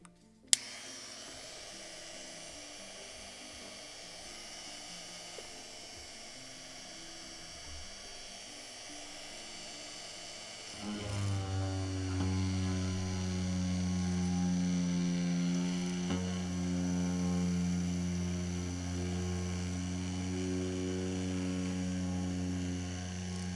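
A small drill bores through a mast ring for a Model Shipways kit of the 1776 gunboat Philadelphia, giving a steady, close whine over a low hum that grows louder and fuller halfway through.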